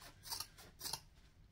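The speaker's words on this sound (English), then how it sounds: "I'm using the vinyl scissors because it's bulky." Vinyl scissors cut through thick, bulky vinyl layered with interfacing for a beach bag, giving two crisp, crunchy snips about half a second apart, close and fairly quiet.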